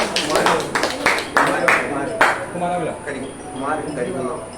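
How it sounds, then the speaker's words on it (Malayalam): An audience at a daytime gathering claps after a song, with a burst of scattered, fairly close handclaps in the first half. A voice then talks over the fading room noise. "എല്ലാവരും ഒന്ന് കൈയടിച്ച് പ്രോത്സാഹിപ്പിക്കണേ."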